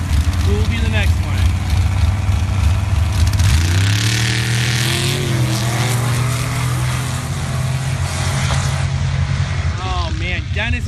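Turbocharged Jeep at a sand drag bracket race: a loud engine revs and roars continuously, pitch climbing as it accelerates partway through, with a commentator talking over it.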